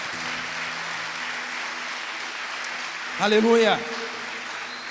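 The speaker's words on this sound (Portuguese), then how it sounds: "Dá uma salva de palmas para Ele" A church congregation applauds in a sustained, even burst of clapping, and one voice calls out loudly over it near the end.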